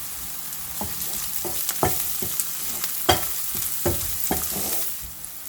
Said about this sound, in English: We are going to add ginger garlic paste to it and cook for a minute again